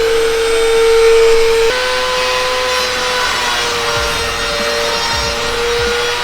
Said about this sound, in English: Now we're going to turn on the Dremel and run the code.